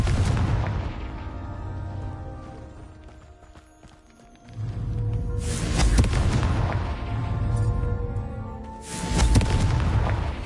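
Booming Confringo fire-spell blasts in the game Hogwarts Legacy, with two loud low-heavy explosions rumbling and tailing off, separated by a quieter stretch of game ambience.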